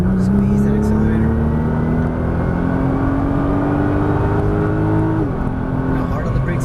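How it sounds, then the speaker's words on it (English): A Nissan GT-R accelerates hard on a race track, its engine note climbing steadily in a loud, sustained rising whine before a brief dip near the end, close and continuous throughout. "Squeeze that accelerator."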